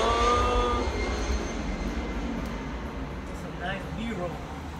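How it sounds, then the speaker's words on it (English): An airplane passes overhead, a steady, broad engine drone that stays loud and even throughout, with people talking over it. "we got a plane."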